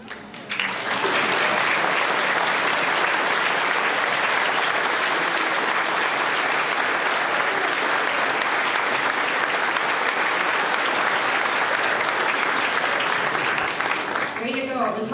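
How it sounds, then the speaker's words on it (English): A full audience applauds apprenticeship program students at a completion ceremony, a long, loud and steady wash of clapping that starts abruptly and holds for over ten seconds. "you deserve a round of applause"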